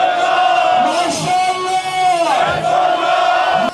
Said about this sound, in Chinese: 这是伊朗袭击以色列后伊朗人民欢呼的场面